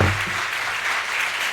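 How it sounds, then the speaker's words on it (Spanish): A lecture audience renews its applause for Dr. Esteban Tálamo after a talk on brine exploration in the salt flats of the Argentine Puna, a brief even patter of clapping. "renovamos el aplauso para el doctor Esteban Tálamo."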